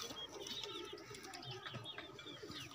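Young pigeon chicks and pigeons make soft, faint cooing and chirping calls, several overlapping bird vocalizations in a quiet space.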